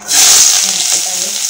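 Chopped onions frying in hot oil in a kadhai for Maggi pani puri, giving a loud, steady broadband sizzle that starts abruptly and holds for the whole moment.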